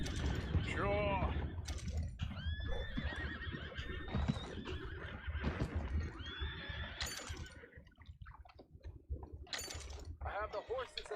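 Horses whinny repeatedly amid clattering hoofbeats and creaking machinery in the video game Red Dead Redemption 2, with voices talking over the busy, close scene.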